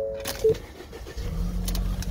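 A 2017 Ford Escape 4WD engine starting: a brief electric chime, then the starter catch and the engine settling into a steady, low idle, heard close and fairly quiet.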